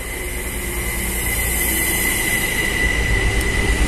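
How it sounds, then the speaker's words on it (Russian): A late-evening passenger train pulls into a station platform in Tartu, Estonia, its wheels squealing in a sustained high whine over a loud steady rolling rumble. "И в 23 часа прибывает еще последний поезд Сталина. Он уже едет. О, как быстро подъезжает"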